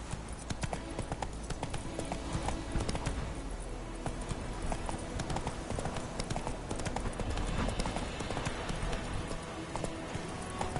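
Horse hooves clip-clop steadily and close in The Witcher 3, a dense, rhythmic patter of hoofbeats over game ambience and faint music, with no talk over it.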